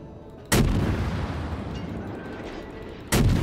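Two loud booming ship cannon shots in a video game, the first firing and then, a few seconds later, a second, each followed by a rumbling decay over a steady low background.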